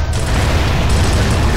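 A grenade in Gears of War explodes in a loud, sustained, rumbling blast that fills the whole short moment.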